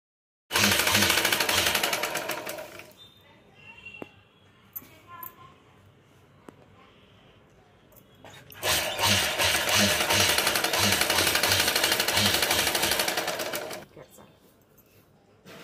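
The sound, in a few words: sewing machine stitching a cloth flag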